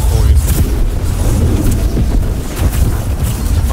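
Siege cannon fire in New World during a war for Restless Shore: deep, heavy booms roll under a steady wash of low rumble and wind-like noise, with a voice faintly present in the mix.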